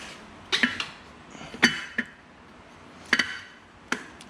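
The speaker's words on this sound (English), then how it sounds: "That noise you hear, this is a tin cover that someone had put on this bike." A loose tin pulley cover on a Harley Lowrider motorcycle rattles in sharp, irregular metallic ticks and clinks, scattered over a few seconds above a low background hum.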